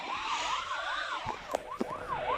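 Police siren in a video game, a rising-and-falling wail repeating steadily throughout at moderate level, with a couple of brief sharp clicks partway through.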